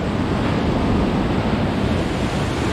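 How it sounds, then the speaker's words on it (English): A flash-flooded river rushes through a rocky gorge at Klein Pella in a dry watercourse that only runs after rain, a loud, dense, unbroken roar of churning water filling the whole clip with no pauses. "hierdie rivier loop nie, hy hardloop."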